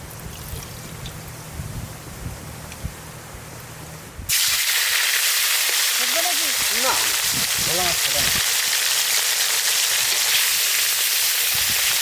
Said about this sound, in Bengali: কড়াই চাপাই দিছি মাছ ভাজার জন্য সর্ষের তেল দিয়ে দেবো